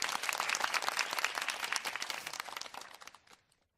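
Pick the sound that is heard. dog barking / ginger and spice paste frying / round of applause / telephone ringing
round of applause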